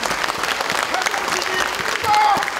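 A hall of party delegates at a Democratic Party Daejeon chapter convention claps for the out-of-district committee chairs, steady dense clapping that swells near the end, with a voice or whistle-like tone briefly rising over it.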